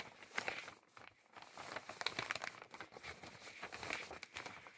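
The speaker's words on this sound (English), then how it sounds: "I am going to slip this into the envelope." A vanilla clasp envelope is handled as a fabric mask slips inside, with crinkly paper rustling and crumpling in irregular bursts, close and fairly quiet.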